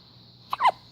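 A baby gives a single quick hiccup, a short close squeaky catch of breath against a quiet room.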